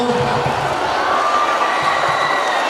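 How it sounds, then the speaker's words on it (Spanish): Crowd at an Entroido carnival school event applauds and cheers for departing performers, a steady wash of clapping and voices, fairly loud and continuous. "Se despide con un aplauso"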